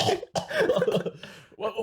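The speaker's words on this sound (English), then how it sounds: "What'd you just cough out?" Someone gives a few short, rough coughs in a quick cluster, close and moderately quiet, with brief pauses between bursts.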